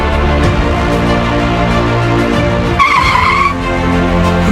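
Tyres screech as a car brakes hard to avoid a motorcycle in traffic, a loud continuous skid over steady engine noise, with a sharper high squeal rising near the end.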